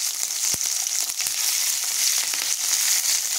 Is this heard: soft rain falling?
no